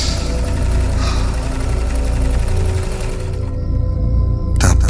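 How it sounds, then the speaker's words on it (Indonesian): Sewing machine whirring late at night, a steady loud mechanical drone with a low hum, continuing throughout and briefly cut off before a burst near the end. "Suara deru mesin jahit itu masih terdengar."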